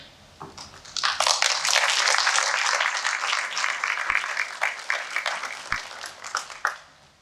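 A crowd applauds at a spring 2022 fire recruit school graduation ceremony: sustained, dense clapping swells in after a second and holds steady, then thins into scattered claps near the end.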